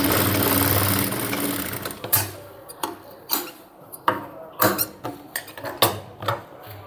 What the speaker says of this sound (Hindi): नीचे की तरफ दोनों तरफ सिलाई लगाना है बस